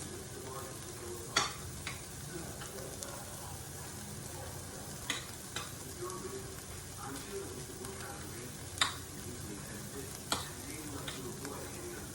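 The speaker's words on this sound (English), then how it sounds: "Going to add the sausage mixture as well. I'm going to stir this up first." A sausage mixture is stirred in a pot, giving a soft continuous sizzle with a few sharp scrapes and clinks of the utensil scattered throughout, faint and close.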